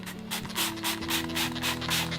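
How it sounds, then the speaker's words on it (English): Aerosol taxidermy cleaner sprayed onto a Cape Buffalo mount, a series of close hissing bursts pulsing in quick rhythm over a low steady hum. "he's going to spray him down too some"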